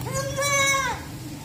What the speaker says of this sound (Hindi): ये हमारा बकरा है जी